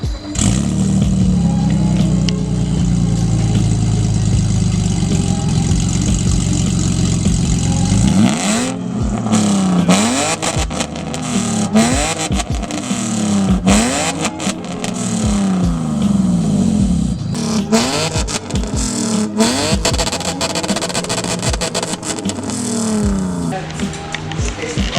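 BMW 435i with catless headers and a straight-pipe exhaust with resonator, lowered, firing up and revving: a loud engine drone gives way to repeated rising and falling revs, close by, with people talking faintly in the background.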